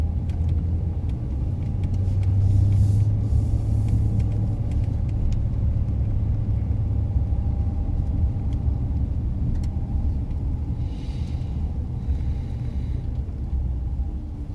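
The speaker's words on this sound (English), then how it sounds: "I love when he drives me around, chauffeurs." A car drives steadily along a road on patrol, its engine a low, continuous rumble heard from inside the cabin. The sound stays moderately loud throughout, with faint clicks and a little radio chatter in the background.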